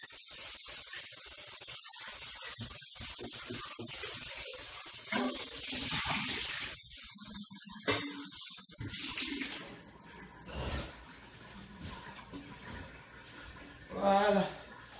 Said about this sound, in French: Je vais aller laver le bol pour mettre ça à l'intérieur.